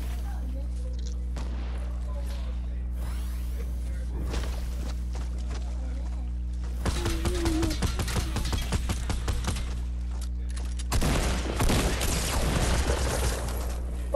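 Video game gunfire and a rocket launcher during a solo clutch round, with dense rapid bursts of shots and blasts that grow louder and denser toward the end over a steady low background hum.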